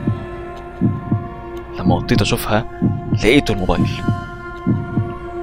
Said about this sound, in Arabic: سامع صوت دقات قلبي.